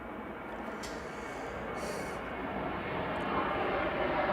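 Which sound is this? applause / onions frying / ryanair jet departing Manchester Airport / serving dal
ryanair jet departing Manchester Airport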